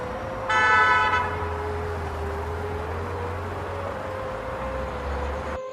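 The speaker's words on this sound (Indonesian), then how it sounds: "Suara klakson terdengar nyaring dari arah belakang." A single short, bright car horn honk sounds early over a steady engine drone of a vehicle idling nearby.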